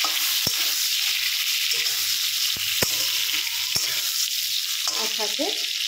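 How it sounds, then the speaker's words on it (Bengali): Eggplant fries in hot oil with nigella seeds, giving a loud continuous sizzle with sharp clicks of stirring utensils against the pan, close and steady throughout. "বেগুনটা দিয়ে দিলাম, বেগুনটা দিয়ে ভালো করে একটু ভেজে নেব।"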